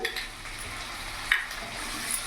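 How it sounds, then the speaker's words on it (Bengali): Ground spice paste of ginger, cumin and chili being sautéed with vegetables in a pan for vegetarian khichuri, a soft, quiet sizzle with light stirring and an occasional utensil clink. "ভালো করে কষিয়ে নেব।"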